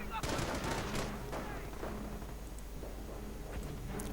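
Machine gun fire in a WWII strategy game, dense crackling bursts of gunfire and explosions throughout, with a voice talking over the battle noise.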